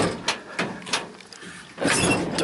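A cargo van's sliding door gives a few quick knocks and rattles, then rolls along its track in one longer, louder slide close by.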